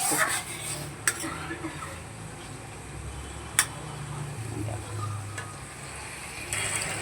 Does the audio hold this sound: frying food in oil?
yes